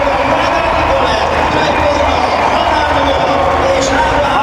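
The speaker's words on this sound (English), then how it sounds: "We'll just let them cheer." A large crowd at a swimming world championships cheers steadily after Hungary wins a medal, a dense, continuous roar of voices that holds at an even level throughout.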